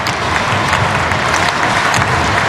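Stadium crowd applauding a female jumper at the 29th SEA Games 2017 athletics finals, a steady dense wash of clapping and crowd noise held at even loudness throughout, no clear voices on top.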